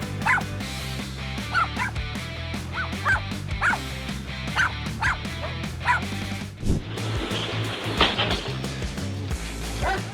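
A guard dog barks repeatedly at an uninvited intruder, a steady run of sharp barks and yips heard over loud background music.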